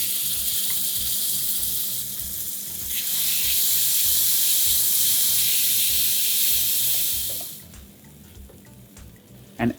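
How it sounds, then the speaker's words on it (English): Tamarind water pours into a hot pan of curry base with shallots and spices, giving a loud steady rushing hiss and sizzle for several seconds that cuts off abruptly, followed by quieter clatter. "And add in tamarind water."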